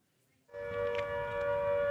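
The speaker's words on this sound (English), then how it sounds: "Sirens sound at RAF Akrotiri base, a possible warning of an incoming drone." A warning siren at the RAF Akrotiri air base starts abruptly after a brief quiet moment, a steady sustained tone carrying at moderate distance, sounding for a possible incoming drone.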